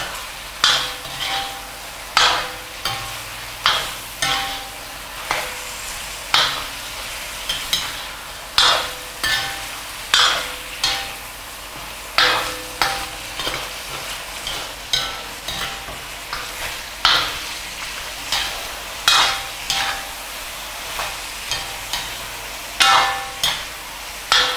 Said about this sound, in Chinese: 要不停地翻炒，随着油温的增加，这个鸡会粘在锅底下